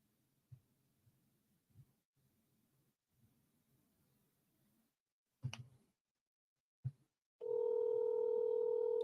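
Steady telephone dial tone from a phone held right next to the microphone, starting abruptly near the end and running loud and unbroken after faint handling bumps and clicks, with no talk.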